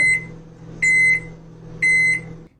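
A microwave oven beeps three times, each a clear, steady electronic tone about a second apart, with a faint low hum running underneath.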